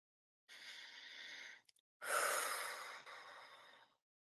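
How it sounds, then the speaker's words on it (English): A slow, deep breath drawn in and then a long, full exhale during a guided meditation, close and soft, with a brief pause between the two and no talk. "Take a deep breath in and exhale fully."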